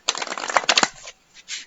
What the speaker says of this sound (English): I'm shuffling. That's what that noise is.